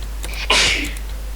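A single sharp sneeze bursts out close to the microphone over a low steady hum, heard during a casual Minecraft gaming session.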